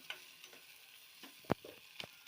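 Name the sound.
sautéing whole spices, cinnamon and pepper, in a pan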